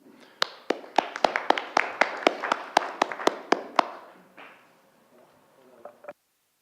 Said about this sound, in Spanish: quiero que recibamos con un fuerte aplauso a Huáscar Rodríguez